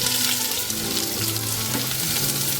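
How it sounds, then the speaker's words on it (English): Onions caramelizing in a pan for brinjal biryani give a steady, close hiss and sizzle that runs unbroken throughout, with faint stirring textures and no voices. "Let's caramelize the onions now."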